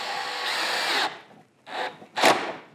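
A power drill set to about 5 whirs steadily for about a second, then gives two short bursts as it drives a screw into a plastic car bumper, close and fairly loud.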